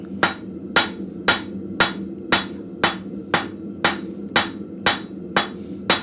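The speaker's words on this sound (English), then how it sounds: "I'm actually hitting basically the same spot on the anvil, and I'm moving the steel around to be underneath" A blacksmith forging a long spoon from steel on an anvil, striking it in an even, ringing rhythm of about a dozen loud, close hammer blows, with no talking.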